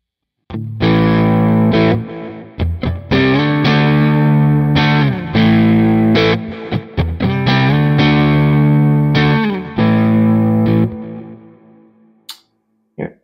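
An electric guitar runs through a Quad Cortex with a Tone King cabinet impulse response, giving a driven, distorted tone. Loud strummed chords and riffs ring for about ten seconds, then decay into sparse fading notes.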